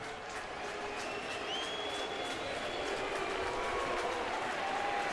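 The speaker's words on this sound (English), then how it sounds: "And say a mix of applause and boos" A ballpark crowd at a Cardinals–Mets game in New York greets a former Met coming to bat, a steady, broad mix of clapping and voices that holds fairly loud across the stretch.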